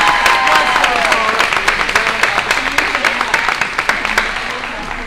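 An audience at a training session giving a round of applause, dense steady clapping from many hands filling the room, loud and sustained throughout before gradually thinning slightly.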